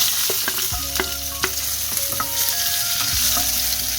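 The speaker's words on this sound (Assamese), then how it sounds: "জোখমতে তেল গৰম হৈ গৈছে। ইয়াতে মই পিঁয়াজখিনি দি দিলোঁ।" Onions frying in hot oil, with a constant close sizzle and occasional scraping stir strokes and clinks of a spoon against the pan.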